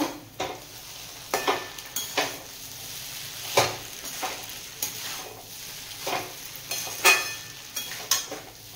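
Egg chowmein is stirred in a frying pan with a soft sizzle, while a utensil scrapes and clanks against the pan in repeated irregular strokes, close by.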